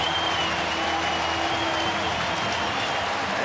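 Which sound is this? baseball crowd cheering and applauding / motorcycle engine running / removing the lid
baseball crowd cheering and applauding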